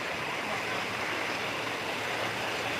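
Water flows steadily in the river at Typhoon Lagoon water park, a soft, even, continuous rush of broadband noise with no talking over it.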